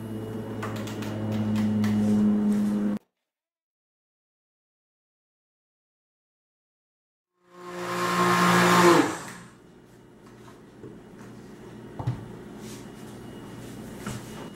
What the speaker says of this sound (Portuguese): Bater no liquidificador por alguns minutos.